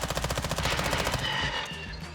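A rapid burst of machine-gun fire aimed at a VTOL aircraft in Modern Warfare 2, loud and close, shots rattling in quick even succession for about two seconds with no talk over it.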